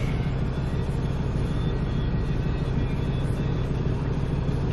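A 1997 Ford F-150 engine idling steadily nearby, a constant low rumble and hum with no variation and no voices.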